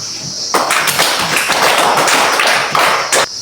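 A short burst of clapping from a small group of students in a classroom, uneven and close, lasting a few seconds.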